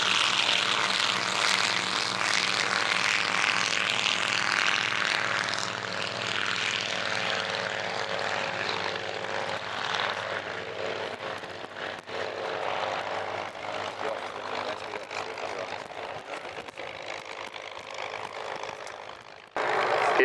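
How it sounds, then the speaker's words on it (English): Avro Anson propeller aircraft flying a display at an airshow, its steady engine drone loud and sustained, slowly fading in the second half before cutting off abruptly near the end. "The Avro Anson"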